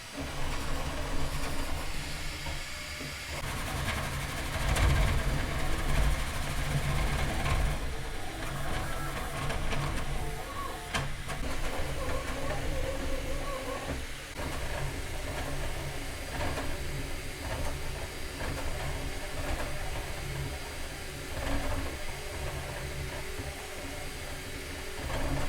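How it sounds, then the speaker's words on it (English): A Bambu Lab P1P 3D printer running fast on a benchy, its frame shaking and rattling in a steady, loud mechanical drone with busy whirring throughout, no voices. "the amount of force that's going into the printing, it's making everything shake"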